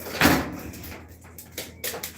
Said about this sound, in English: make sure that door shut